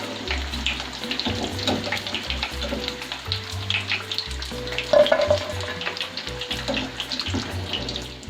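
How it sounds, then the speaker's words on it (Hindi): Chicken pieces deep frying in hot oil for orange chicken crackle and sizzle steadily up close, with occasional stirring clinks and bubbling throughout. "चिकन का कलर चेंज हो गया हमारा और बड़ा क्रिस्पी सा फ्राई हुआ है।"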